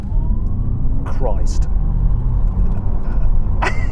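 An Audi RS e-tron GT electric car launching from about 30 mph at full throttle, a loud steady road and wind roar with a faint rising electric whine, while a man exclaims over it.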